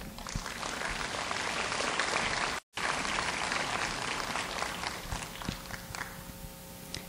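Applause from the audience at a summer workshop ceremony honouring a university president, a steady sustained wash of many clapping hands with a brief cut partway through, fairly distant and even.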